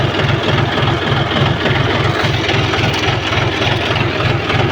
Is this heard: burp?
no